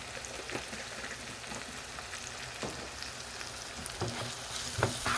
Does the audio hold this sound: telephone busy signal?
no